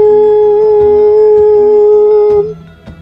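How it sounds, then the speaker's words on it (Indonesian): Two wolves howl together in a sustained, tonal, loud and close chorus for a few seconds before it breaks off, leaving faint rumble behind, a sound effect for a mystical audio drama scene. "Dua auman serigala menggetarkan rumah Nyi Narasati."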